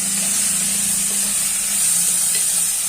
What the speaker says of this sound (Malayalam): എന്നിട്ട് നല്ലതുപോലെ ഇളക്കി കൊടുക്കുക.